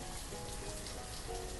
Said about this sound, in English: And the rain's back.